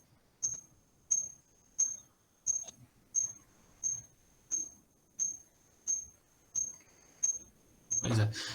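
A reconstructed song of an ancient cricket-like insect: a high, thin chirp, higher than modern crickets, repeats about twelve times at an even rhythm, each short pulse clear and isolated against near silence, before a burst of noise.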